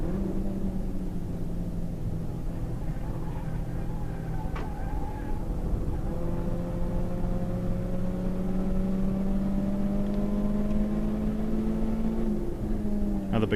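A Nissan Sentra SSS race car of about 140 horsepower and 1200 kilos climbing a hill on the Hampton Downs circuit during a one-hour endurance race, its engine droning steadily and slowly rising in pitch under load.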